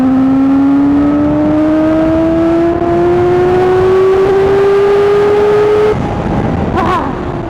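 A KOVE 450R motorcycle engine revs hard in first gear during a wheelie, its loud, steadily climbing whine holding for about six seconds before abruptly dropping off.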